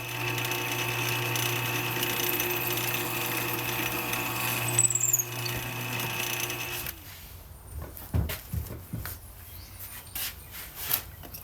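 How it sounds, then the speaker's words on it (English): A power drill whirs steadily, boring a hole through a wooden axe handle, then cuts off into quieter handling with a few knocks and clunks. "I'm going to drill a hole all the way through there"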